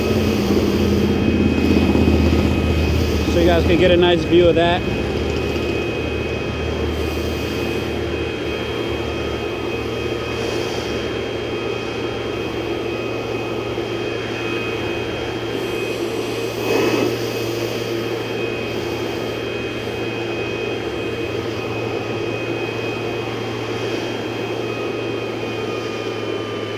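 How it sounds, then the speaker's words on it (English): A Ryobi 40V backpack leaf blower runs continuously with a loud, steady roaring whoosh throughout, while a voice talks briefly over it. "I'm gonna blow the line too, right here, that the edger left."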